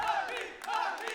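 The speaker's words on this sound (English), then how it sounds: "we've got the Aussies shouting for Where's Honey" A crowd of Australian fans in an esports arena at the Tekken World Tour 2019 Tekken 7 finals shouts and chants for a player, a loud, continuous rally of voices swelling in waves.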